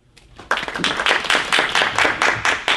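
Audience members at a talk clap together in a quick, loud burst that starts abruptly and continues evenly, close and clear with no talking over it.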